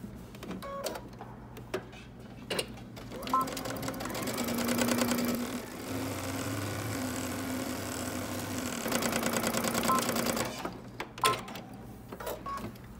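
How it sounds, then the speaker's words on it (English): A sewing machine stitches around a pants pocket, running in two steady sustained whirring passes with short pauses and clicks between them, close and clear. "now I'm going to sew around the pocket"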